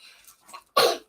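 A single short, sharp human sneeze bursts out up close after faint breathy sounds, loud and abrupt, with no talking over it.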